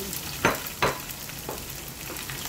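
Marinated pork added to a pan of browned garlic, giving a steady sizzle with a few sharp scraping stirs near the start that soften later, close and moderate in level.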